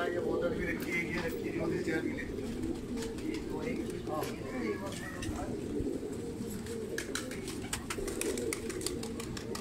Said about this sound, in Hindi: जावेद की कबूतर